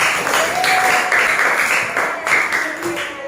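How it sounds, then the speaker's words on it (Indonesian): Schoolchildren in a classroom applaud their classmates with a burst of quick, uneven clapping, fairly close and loud, with a teacher's voice and children's voices mixed in. "Berikan tepuk tangan buat teman-teman kalian."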